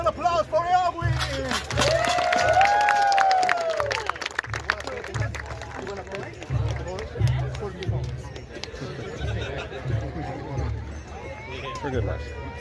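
Applause and crowd noise at an outdoor Renaissance faire, scattered clapping and babble under a loud announcer's voice, with hoofbeat-like thumps in the background.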